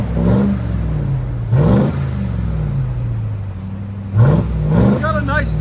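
Stock-exhaust Ram TRX with its 6.2L supercharged HEMI V8 revs in three loud, close bursts, each swelling and falling back to a steady, deep idle rumble between them.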